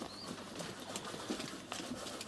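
Pigeons and their half-grown chicks nest inside a house, giving soft, low cooing and scattered rustling calls close by, with faint chirps and flutters over a constant quiet background.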